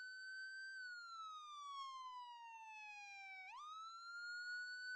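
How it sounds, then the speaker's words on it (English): Whale police siren from the game ER:LC, a single steady electronic tone that glides slowly downward over several seconds, then sweeps quickly back up and holds, clear and alone with no talking. "And here's the whale."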